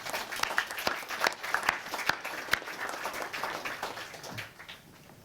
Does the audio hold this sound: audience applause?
yes